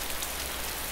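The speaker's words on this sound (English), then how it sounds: "So much rain. It's been raining for hours," Steady, dense rain pours down in the game DayZ as a loud, even hiss of drops hitting surfaces, continuous for a full second with no voices.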